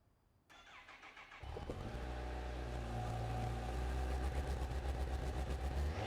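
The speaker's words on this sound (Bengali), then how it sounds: "এই বাইকটার সাউন্ডটা কেমন সেটা একবার আমাদের শুনিয়ে দিই।" A Kawasaki Ninja H2 SX SE motorcycle cranks and fires up, then settles into a steady close idle with a rhythmic pulsing throb that grows slightly louder.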